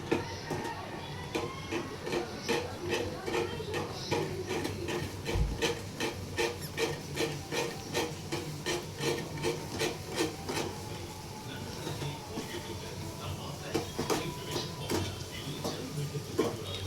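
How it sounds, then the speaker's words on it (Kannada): Thick ragi mudde (finger millet dough) is stirred in a cooking pot with a wooden stick, giving steady, repeated rubbing and scraping strokes in an even rhythm, close by, with faint voices in the background. "ಮುದ್ದೆ ತಿರುಗ್ತವ್ರು ನಮ್ಮಮ್ಮ"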